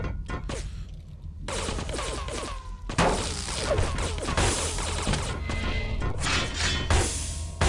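Railgun shots in the arena shooter Quake 3, sharp crashing blasts separated by brief gaps, followed by a dense burst of impacts and mechanical clatter, loud and close with no voices.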